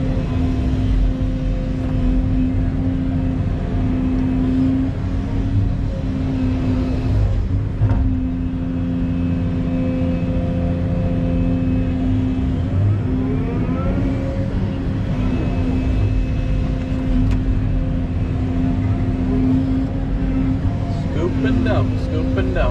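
A truck hauls dirt around a backyard pond dig site, its engine a steady close rumble with a brief rev and rise in pitch midway before settling back to a constant drone.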